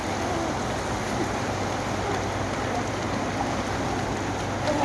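Heavy, unrelenting rain pours down in Saudi Arabia during flooding, a dense steady hiss of drops hitting surfaces, loud and close, with no voices.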